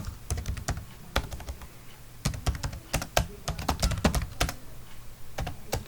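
Fast, irregular clicking of computer keyboard keys while a name is typed into an Excel sheet, bursts of crisp keystrokes with short pauses, close and clear with no talking.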